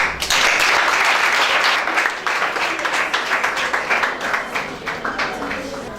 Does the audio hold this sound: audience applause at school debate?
yes